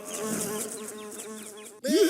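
A fly buzzes in a SpongeBob SquarePants cartoon scene, a wavering insect drone that swoops and dips for nearly two seconds, then cuts off abruptly before a brief, louder burst of a different sound.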